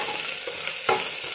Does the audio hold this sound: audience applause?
no